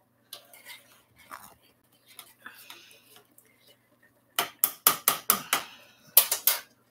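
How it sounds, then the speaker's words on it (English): Gravy stirred in a pot: a few faint scrapes and ticks, then a quick run of sharp, close spoon knocks against the pot, about eight loud clanks in rapid succession. "Let me stir it for you"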